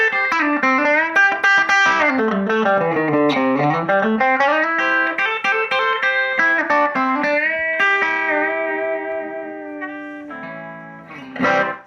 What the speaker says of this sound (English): So yeah, just great overdrive tones.